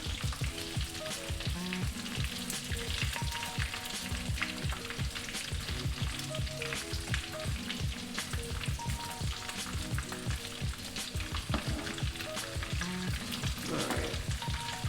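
Chicken katsu frying in oil, a continuous close crackle and sizzle with dense popping bubbles, loud and even for the whole stretch with no talking.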